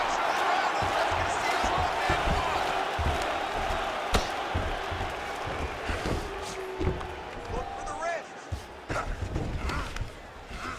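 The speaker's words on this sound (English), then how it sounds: "crowd absolutely loving it" A large arena crowd at a UFC fight between Jon Jones and Alexander Gustafsson roars continuously, with swells and scattered shouts, while a commentator talks over it.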